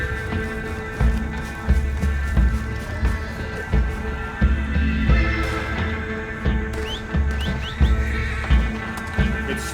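A horse in Red Dead Redemption 2 whinnies and neighs repeatedly while stuck in mud, its cries rising over a steady rhythmic clip-clop of hooves struggling in place, loud and close throughout.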